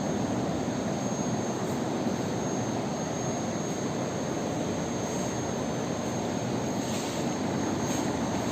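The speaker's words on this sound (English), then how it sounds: "condenser fan is rotating and throwing the air this way" A window air conditioner's condenser fan motor runs with a constant, dense whooshing drone of moving air, steady and fairly close throughout, with no voices.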